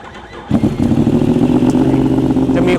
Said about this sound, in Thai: คันนี้ผมใส่ท่อ ซัดนะครับผม Z A R D นะครับผมก็ท่อซัดตัวนี้ก็เสียงพอมากพอเข้ามาอยู่ใน Yamaha